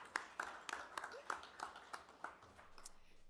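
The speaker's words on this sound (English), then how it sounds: "I'd like to do a round of applause for you guys because you guys don't get enough credit" Round of applause at a county board meeting, scattered hand clapping from a small group, fairly faint and uneven, tapering off after a few seconds.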